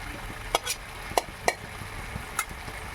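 Fried Gobindobhog rice being stirred in a pot, soft scraping strokes in a few sharp bursts over a low, steady sizzle.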